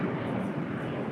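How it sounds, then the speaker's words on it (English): A Dassault Falcon 900 EX business jet departs LAX as a steady, broadband roar, heard briefly and fairly loud with a murmur of voices mixed in. "It was a Dassault Falcon 900 EX departing to St. Louis"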